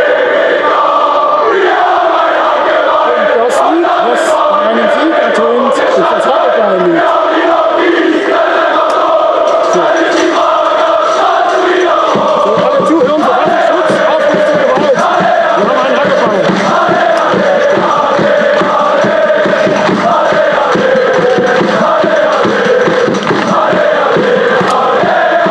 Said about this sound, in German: Big Point wird hier gerufen von unserem Kapo und jetzt noch das gemeinsame Klatschen